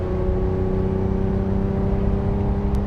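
A 1967 Ferrari 330 GTC engine hums steadily in fourth gear, a smooth, even cruising tone heard from the cabin with no voices.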